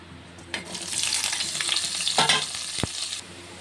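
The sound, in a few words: onions frying in hot oil in a wok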